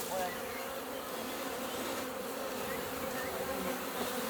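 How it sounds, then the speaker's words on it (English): Honeybees swarm in the air around a beehive that has just been moved, a dense, steady buzzing drone from many insects that holds evenly and close throughout, with no voices. "then all the flying bees will return to the new hive that I put in that one's place"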